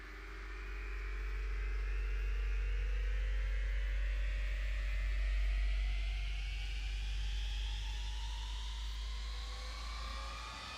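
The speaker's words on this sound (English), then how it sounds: "All 4 engines are starting now. Let's come out here and listen to it." Four engines of an Avro Vulcan bomber spool up in the Microsoft Flight Simulator 2020 game, a steady roar under a low hum with whining tones that climb slowly in pitch over about eleven seconds, with no talking.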